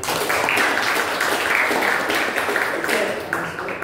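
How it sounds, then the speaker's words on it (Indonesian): Applause from an audience at an Indonesian teaching session, a dense steady wash of many hands clapping that stays loud and even for the whole stretch, with no voices over it. "tepuk tangan"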